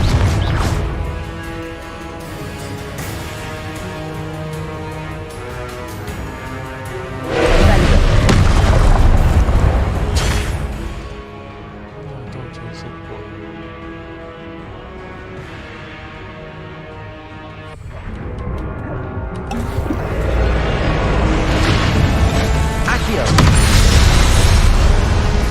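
Confringo blasting spell explosions in Hogwarts Legacy, heavy booming blasts that rise into loud rumbling surges over a dense bed of game music and effects, with brief pauses between bursts.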